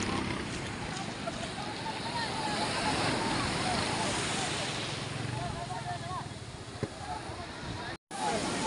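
Large ocean waves at sea surge and wash in a broad, steady roar with wind buffeting the microphone, heard from a boat with a brief knock near the end.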